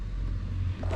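An open-top car driving through a village, a steady close low engine rumble throughout with no talk.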